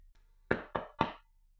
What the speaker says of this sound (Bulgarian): Кой чука на вратата?